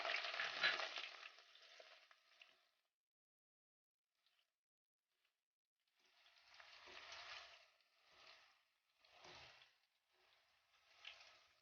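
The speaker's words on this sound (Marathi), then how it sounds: "इथे मी 20 ते 25 लसणाच्या पाकळ्या ठेचून घेतल्यात आणि त्याही तळून घ्यायच्यात।" Crushed garlic cloves, twenty to twenty-five of them, sizzle and fry in hot oil for a crunchy poha chivda, loud at first, then a pause before shorter bursts of stirring and crackling.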